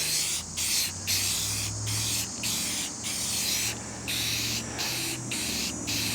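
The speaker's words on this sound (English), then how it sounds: "We're going to try painting that white strip on the bottom, that weather stripping, and see if it works." Paint sprayer hisses in repeated short bursts while coating the white weather stripping along the bottom of a screen door, each spray pass separated by brief pauses over a continuous compressor-like hum.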